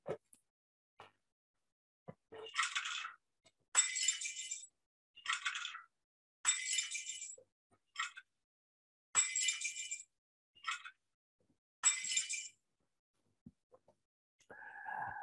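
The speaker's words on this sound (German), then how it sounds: "können Sie sich an diese klirrenden Scherbengeräusch, an dem ersten klirrenden Scherbengeräusch, übrigens in Ihrem Leben erinnern?" Glass shards clinking as they break and fall, a series of about ten sharp, bright tinkling bursts separated by silences, close and clear with no talking.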